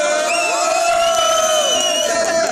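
Crowd cheering and shouting at an independent rap concert in Montpellier, a loud, sustained roar of many voices with whoops rising above it, continuous and close throughout.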